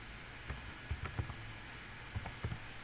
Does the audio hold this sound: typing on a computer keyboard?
yes